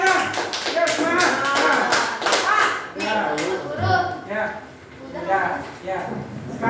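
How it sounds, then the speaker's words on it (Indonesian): A classroom of children claps for a student group, with quick patting claps in the first few seconds under a teacher's voice and children talking, then fading into speech. "Mana tepuk tangannya?"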